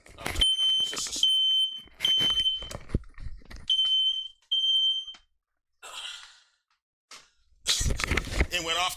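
A household smoke alarm set off by stove cooking beeps in repeated high piercing bursts, with someone talking over and between the beeps.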